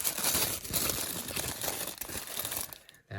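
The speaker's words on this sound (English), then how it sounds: "So if we just take off this tissue paper" Tissue paper is crinkled and pulled away from a Hornby GWR Castle class model locomotive's tender in its box, a continuous close rustling and crumpling that stops abruptly at the end.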